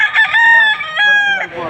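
Roosters crow loudly and close at a chicken market in Padre Garcia, Batangas, two long harmonic calls overlapping one after another with a brief clucking tail.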